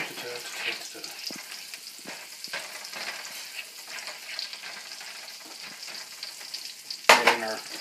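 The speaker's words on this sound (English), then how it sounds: "We're going to add some oil to the butter to raise the smoke point a little bit." Butter with a little oil added sizzles in a pan for a venison roast, a continuous close frying crackle with intermittent utensil scrapes and taps and a louder clatter near the end.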